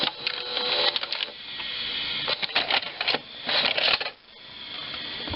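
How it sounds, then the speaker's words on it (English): A GE VG 4056 VCR runs with its video drum spinning and tape moving, giving a steady close mechanical whir with clicking, rattling transport noises that rise and fall, ending in a quieter hum. "there's a video drum spinning, and the tape is moving"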